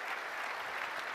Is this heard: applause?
yes